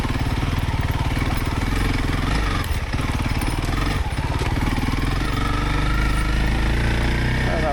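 A heavily loaded motorcycle engine labours around an obstacle on a mountain trail, a loud close rumbling putter throughout with revs rising and dipping briefly midway.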